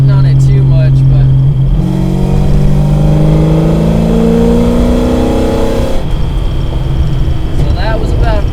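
A 500hp Fox Body car accelerates at half throttle, its engine note rising steadily through a long pull and then easing off as it decelerates, loud and close with a voice briefly audible.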